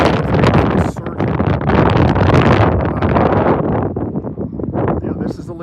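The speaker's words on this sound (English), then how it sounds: "It's just a huge surge in gust front." Strong gusty wind from a storm's gust front near Wall, South Dakota, roars and buffets the microphone in loud, uneven surges, with a person speaking intermittently over the blustery noise.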